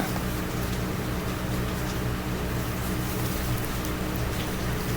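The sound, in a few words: rain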